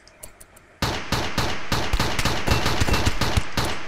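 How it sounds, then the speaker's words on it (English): Turret gunfire defends a colony against raiders in Rimworld: a loud, steady volley of rapid shots follows a few faint clicks, keeping an even, punchy rhythm for several seconds. "I should probably turn my actual turrets on"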